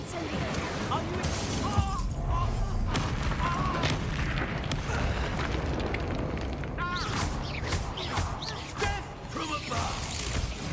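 Incendio fire spell blasts during a Hogwarts Legacy combat encounter, with dense layered booms and crackling effects running continuously under music and game voices; people speak throughout.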